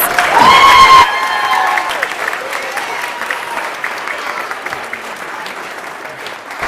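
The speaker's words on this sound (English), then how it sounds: "One more round of applause." A church congregation applauds after a children's Christmas pageant. Bright musical tones ring out at the start, then give way to sustained clapping that slowly thins over several seconds.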